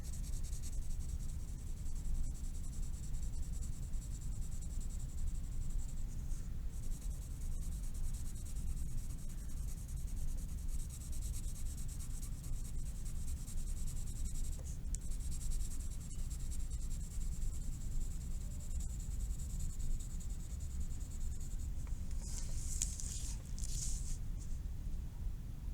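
A pencil drawing an ice cream cone on paper, scratching in steady back-and-forth strokes close up, with an unbroken dry rasp and no talking.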